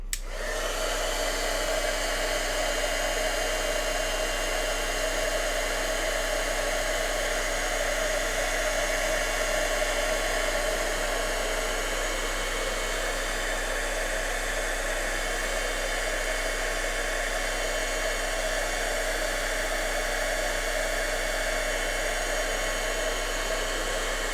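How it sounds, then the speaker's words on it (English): An embossing heat tool blows a steady, loud whirring rush without a break while it dries a salted craft card; no voices are heard. "So then we're going to heat it up again and dry it."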